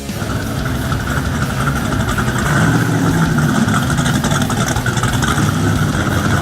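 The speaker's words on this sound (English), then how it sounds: "It's old and it works, it's aspirated gas, it runs well." An old naturally aspirated gasoline American muscle car at a South Jersey drag racing event idles loud and close, a steady deep rumble that swells slightly partway through with no voices.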